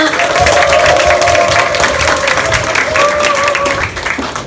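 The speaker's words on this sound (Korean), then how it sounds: "이경남 스타마스터님을 무대로 큰 박수로 모시겠습니다." Loud audience applause with some cheering welcoming a speaker onto the stage at a lecture event, dense clapping throughout that tapers off at the end.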